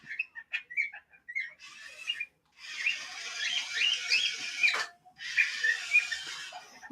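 A pet budgie sings a bright, chattering warble of quick chirps and whistles, close and fairly loud, broken by short pauses with no talking.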